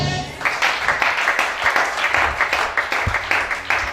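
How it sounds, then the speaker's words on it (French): A church congregation applauds during a teaching service, dense rhythmic clapping from many hands, close and lively, with a few faint voices mixed in. "Acclamez ça."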